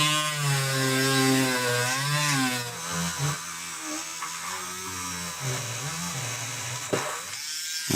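A small, not very strong drill with a 1/16 bit whines close and continuously while pressing a nail of about 1/16 into an interference fit, its pitch sagging and recovering under load, with a sharp click near the end.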